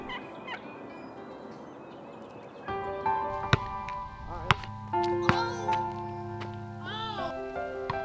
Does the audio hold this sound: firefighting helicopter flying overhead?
no